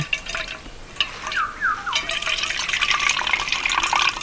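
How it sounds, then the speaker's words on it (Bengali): Water squeezed by hand from chopped mangoes through a cloth for pickle, with close dripping and trickling that becomes a continuous, splashy flow in the second half. "এইভাবে কিন্তু হাত দিয়ে চেপে চেপে সম্পূর্ণ জলটা আমি ঝরিয়ে নেব।"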